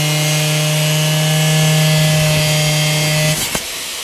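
A power tool cuts open a locked box holding cowboy boots, a loud, steady droning whine with a strong hum held for over three seconds, then stopping abruptly with a short clatter.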